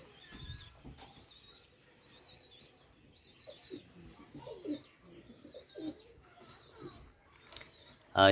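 Pakistani and racer pigeons in a collection coo repeatedly, with soft rhythmic calls recurring through the clip and faint chirps behind, fairly close and moderate in level.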